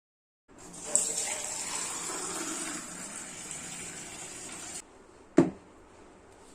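Hot water runs steadily from a tap as a constant gushing rush for about four seconds, then cuts off, followed by a single brief knock.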